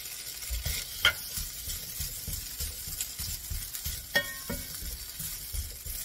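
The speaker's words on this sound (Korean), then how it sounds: "이제 소시지 볶아줍니다." Sausage stir-fried in a pan for mini gimbap, with a soft sizzle under repeated scraping and stirring strokes, close and fairly quiet, plus a few sharper clinks of the utensil.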